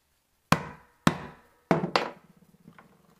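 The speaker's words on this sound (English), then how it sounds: "Take the screwdriver, put it in the groove of the eye." Sharp metal-on-metal taps from a screwdriver worked into the eye of a fishing hook swivel on a kitchen table: four distinct close knocks in the first two seconds, then a trail of small faint clicks and rattles.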